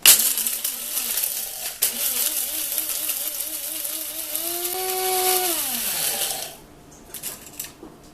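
An electric grinder pulverises dehydrated homemade chicken bouillon into powder, a loud whirring motor whine that wavers, then rises and winds down before stopping near the end, leaving only faint clatter.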